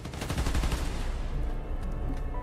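Gunfire in the Spider-Man: Miles Morales video game as enemies shoot at Transformers, a dense rapid burst of loud shots in the first second that eases into a steady rumbling clatter.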